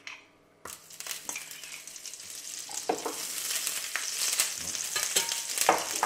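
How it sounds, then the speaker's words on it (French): Clarified butter is dropped into a preheated frying pan and immediately sizzles, a loud hissing crackle that swells and stays steady after a brief quiet start, close to the pan. "J'ai mis à chauffer ma poêle. Je vais mettre un beau morceau de beurre clarifié."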